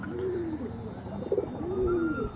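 A Chennai Blood pigeon coos twice nearby, soft rolling calls with a short pause between them, against a faint steady background hum.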